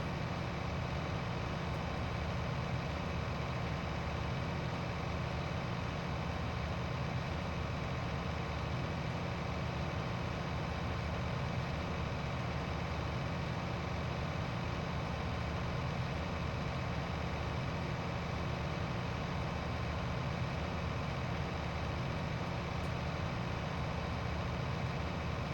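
A tractor engine in Farming Simulator 19 drones steadily at near full load while working a field, a constant low, heavy rumble with no break for the whole stretch.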